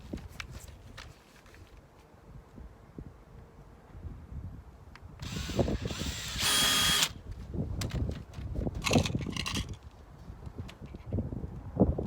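A power drill drives the center screw of a door hinge during a door installation, with whirring bursts and ratcheting clicks amid handling knocks, close and moderately loud.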